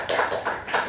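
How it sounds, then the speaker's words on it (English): Short burst of applause from a class audience after a finance presentation, a few people clapping close by in uneven pulses for about a second. "let's give a round of applause"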